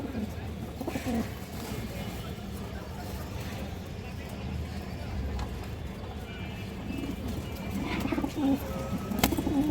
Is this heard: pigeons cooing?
yes